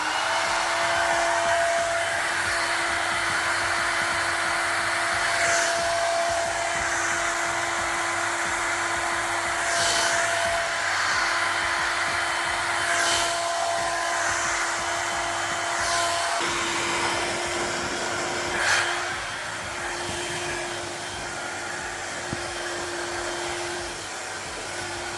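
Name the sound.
Feekaa ionic hair dryer running with diffuser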